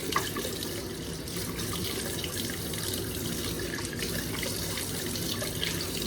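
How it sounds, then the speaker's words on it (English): Tap water runs steadily into a sink as a man rinses his face after a wet shave, a continuous close splashing flow without speech. "Let me go ahead and rinse off my face"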